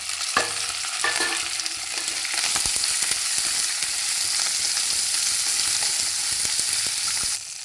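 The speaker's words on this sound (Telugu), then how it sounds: "ఆవాలు చిటాపటామంటున్నాయి కదా" Mustard seeds for tempering crackle and pop densely in hot oil, a continuous close sizzle with quick sharp snaps and no talking.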